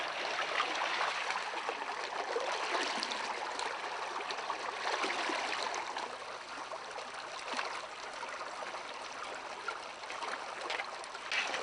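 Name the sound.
gold panning in a stream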